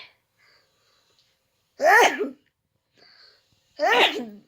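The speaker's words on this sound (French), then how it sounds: "J'ai envie d'éternuer." Two sharp sneezes about two seconds apart, each with a quick breathy intake before it, close and loud in an otherwise quiet room.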